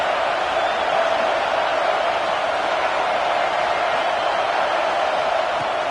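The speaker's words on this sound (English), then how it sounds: "this crowd trying to help keep them there" Steady stadium crowd roar from a college football video game, Utah playing at UCLA, a dense, continuous wash of distant voices holding at an even level throughout.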